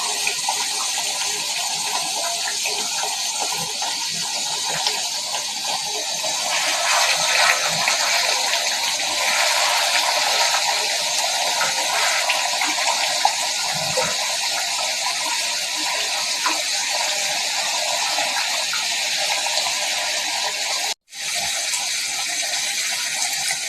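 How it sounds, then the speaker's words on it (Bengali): Water poured into a pan of fish curry to make gravy, a steady broadband gush running for about twenty seconds with one brief dropout near the end. "এবার পর্যাপ্ত ঝোলের পানি দিয়ে দিলাম"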